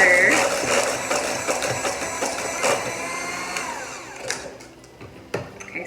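An electric stand mixer whirs steadily at a higher speed while blending pumpkin spice cookie dough, the motor droning with clicks and knocks of the beater near the end.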